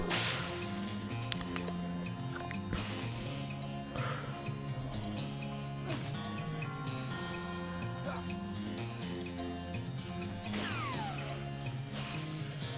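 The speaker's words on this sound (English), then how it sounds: "Alright, let's hit him with the whip." A western video game whip attack comes in sharp, repeated cracks over a steady, busy game soundtrack. Several snaps are spaced through the stretch, with dense music and effects carrying on underneath.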